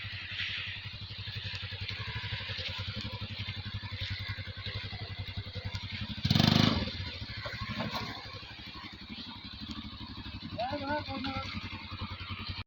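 A motorcycle engine drones steadily on a bad, dangerous road, with a loud rattling bump midway and brief voices near the end.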